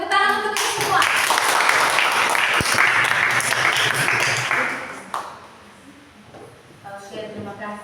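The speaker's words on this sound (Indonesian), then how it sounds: "Tepuk tangan untuk kita semua." A classroom of students claps together in sustained, dense applause for about five seconds, then it fades and a voice speaks.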